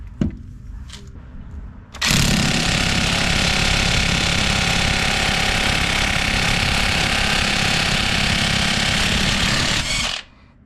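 Earthquake 3/4-inch cordless impact wrench hammering on a stuck bolt: a loud, continuous rattling burst of about eight seconds that starts abruptly after quieter handling noise and cuts off sharply at the end.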